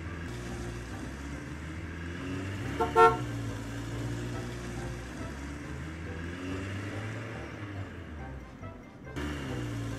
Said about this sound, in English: The truck will bring us tools.